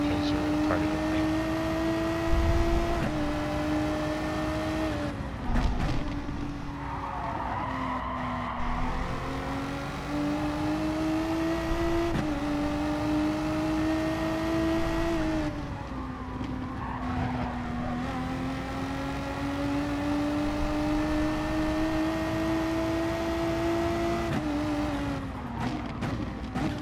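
Racing car engines in Gran Turismo Sport, a steady high whine rising and dropping through gear shifts over a long run, with tire squeals and a player talking over it at times.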